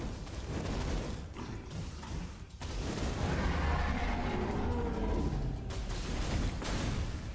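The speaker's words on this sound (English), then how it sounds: "The explosions are doing great, though." Explosions in the roguelike video game Ovis Loop during a fire-build boss fight, a continuous dense rumble of booms and blasts with gunfire-like hits, loud and sustained with a brief dip partway through.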